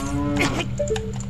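A cow in a Zelda video game lets out a single synthesized moo, loud and close with a tonal, bending call, alone without talk.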